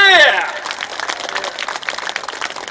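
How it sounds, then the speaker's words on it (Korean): A crowd applauds at the opening ceremony of the 9th Icheon Ginseng Festival, with steady clapping after a brief raised voice at the start. "그럼 박수 한번 다시 한번 크게 보내주시기 바랍니다."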